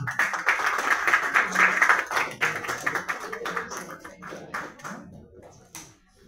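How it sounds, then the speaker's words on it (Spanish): An audience at a book presentation in a club applauds the author, a dense round of clapping that peaks early, then thins into scattered claps and fades out over about six seconds. "Vamos a recibir con un cariñoso, con un agradecido aplauso a Marco Antonio Panduro, autor de este libro."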